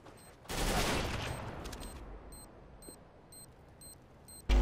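Rapid gunfire in CS:GO: a dense, loud burst of shots lasting over a second, then quieter ticking game sounds and a sharp final shot.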